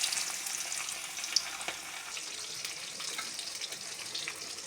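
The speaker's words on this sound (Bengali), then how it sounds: "এই কাঁঠাল ছেড়ে দিয়েছি।" Boiled jackfruit pieces fry in a hot pan with bay leaf, giving a steady, close hiss and sizzle with faint stirring scrapes and one small clink, no talking.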